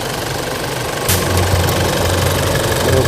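A repaired Isuzu D-Max 2.5 engine runs during a test drive after a fix for oil burning and white smoke, a loud steady rumble that steps up in intensity about a third of the way through.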